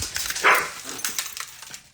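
A dog gives a single short bark at close range, briefly standing out from a quiet indoor room with a little faint background noise.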